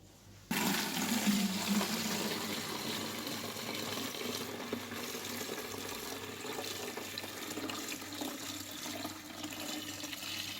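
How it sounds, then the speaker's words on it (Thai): Butterfly pea flower wine being poured into a fermentation tank makes a continuous rushing splash of liquid that starts abruptly and runs steadily for about ten seconds. "จะเทใส่ถังบ่มนะคะ"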